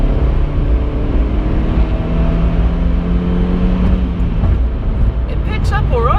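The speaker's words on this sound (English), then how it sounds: "let's give the engine a quick go." A Renault Twingo Gordini's small engine revs up and holds a steady drone for several seconds, its pitch rising and falling under a continuous low rumble, with a voice talking over it throughout.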